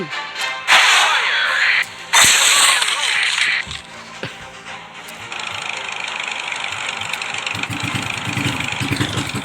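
A steady mid-pitched boat engine in the game Tank Stars drones through, with sharp cracking bursts and whooshing noise layered over it early on, loud and close.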